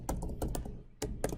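Quick bursts of keystrokes on a computer keyboard while logging into an online form, with clustered taps separated by a short pause, close and fairly clear.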